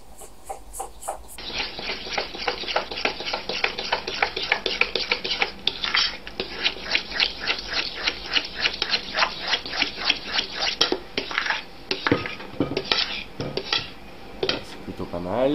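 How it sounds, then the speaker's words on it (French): A utensil scrapes and clinks against a bowl in quick, steady strokes, stirring melted butter into batter for a ham and parsley cake. The close, busy rhythm continues throughout with no speech. "versez l'intégralité du beurre une fois et mélangez bien pour obtenir une pâte bien lisse"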